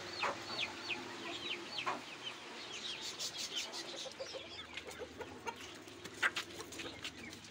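Desi hens cluck and chatter in a farmyard, with many soft, overlapping clucks and a few sharper calls scattered through the span. The birds sound at a moderate distance against a steady outdoor background, with no voices.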